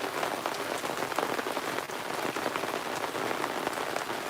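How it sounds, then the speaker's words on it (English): Heavy rain pours steadily and densely, a constant close hiss of drops drumming on a surface, with no voices. "Listen to that rain come down now one time, would you?"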